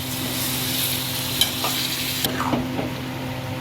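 Chicken sautéing in a hot pan with a steady sizzle, stirred with a spatula that scrapes and taps the pan a few times, close and continuous with no talk.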